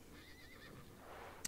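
A horse in the video game Star Stable Online gives a faint, wavering whinny over low background hiss, ending with a short sharp click.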